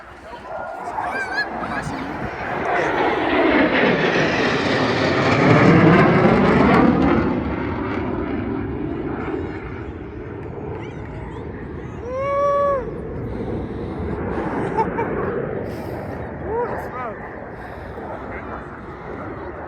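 U.S. Air Force Thunderbirds jets flying past at the 2024 Columbus air show, a loud swelling roar with Doppler sweep as they pass close, then fading rumble, while spectators talk and geese honk nearby.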